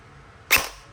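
A Poseidon Theseus AEG airsoft rifle, a 450 FPS unit with a built-in tracer, fires one sharp, close pop that decays quickly over a low background hum.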